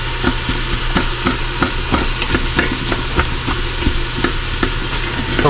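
Onions frying in butter inside an Instant Pot, a dense continuous sizzle close to the microphone, broken by regular clicking stirs and scrapes of a utensil against the pot, with no talking.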